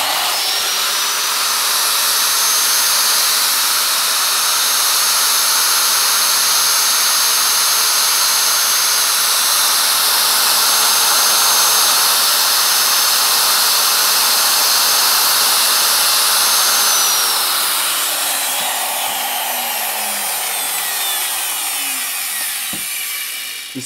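A Makita 4100NH tile and stone cutter runs freely at full speed, a loud continuous high whine close by that holds steady for most of the span, then winds down near the end.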